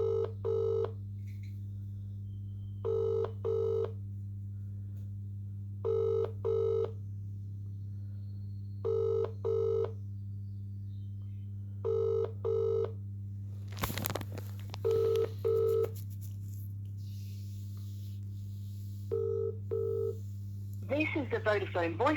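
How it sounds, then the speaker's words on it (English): A mobile phone ringback tone on a Vodafone call repeats in regular double pulses over a steady low hum, heard down the line, with a brief burst of noise midway. "Ringing up Christopher Browell."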